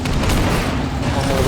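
Tanks open fire on turrets in the Army Men of War video game, a dense, loud wash of overlapping booms and gunfire with no clear gaps.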